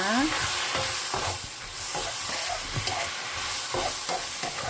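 A sauce of rice wine and raw sugar with soy and oyster sauce is stir-fried for an eggplant and pork dish, a loud continuous sizzle with irregular spatula scrapes and taps, no talking.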